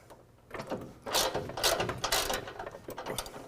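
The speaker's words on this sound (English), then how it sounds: "I'm going to go ahead and use a floor jack" Floor jack being pumped to raise a 2020 Ram 2500 truck bumper during an aluminum bumper install, heard as a series of close ratcheting, clanking mechanical strokes in an uneven rhythm, moderately loud.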